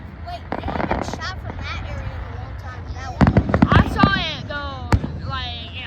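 Fifth of July fireworks bursting outdoors, with a cluster of sharp, crackling pops in quick succession followed by a single louder bang, over whistling and background chatter from nearby voices.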